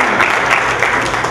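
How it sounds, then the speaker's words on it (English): Church congregation clapping during a Sunday service, a loud continuous wash of many hands close by, steady throughout the short stretch. "Come on, give him a hand, amen."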